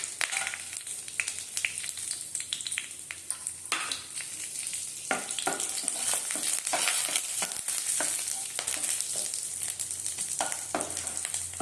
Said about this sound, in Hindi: ये तेल रे आमे सुखिला लंका तेजपत्र जीरा खड़ा मसला दे देबा।